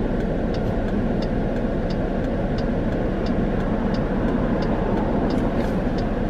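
Constant road traffic streams past a spot where a driver waits to make a U-turn, a steady broadband roar of passing cars without break or voices.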